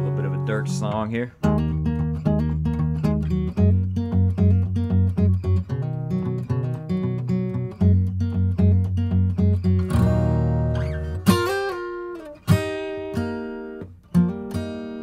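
Gibson J45 acoustic guitar played straight through a Voiceprint DI, strummed chords of a mellow, traditional country-style song, steady and close, with a few sharper accents near the end and no voices.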